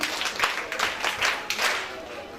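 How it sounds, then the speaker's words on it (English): Applause from an audience at a Royal Ambassadors Foundation Schools event in Onitsha, moderately faint, swelling in uneven waves of clapping. "A round of applause for her."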